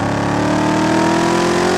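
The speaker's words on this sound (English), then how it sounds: "I think it's the supercharger whine that sets it apart from everything else" A 2019 Dodge Challenger Hellcat Redeye Widebody's supercharged V8 gives a loud, steady engine drone with a high supercharger whine layered on top, sustained and close, rising slightly in pitch.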